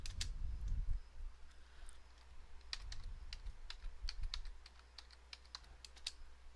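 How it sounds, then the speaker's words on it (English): Close clicking keystrokes on a computer keyboard, irregular taps coming in short runs with brief pauses between them, heard alone. "Let's see if I type this out right."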